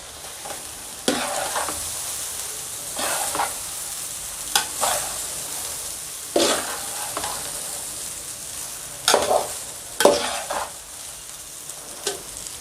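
Rice tipped into a pan of softly scrambled egg and stir-fried, with repeated scraping stirs over a steady sizzle, each stroke a distinct loud swish at a near, close distance, with no talking.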